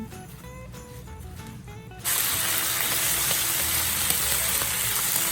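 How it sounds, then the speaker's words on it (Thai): Herring and eggplant stir-fried in a pan for a Japanese-style dish. A softer stirring rustle gives way to a loud, steady sizzle of frying that continues to the end. "ผัดให้เข้ากันนะคะ ผัดให้เข้ากัน"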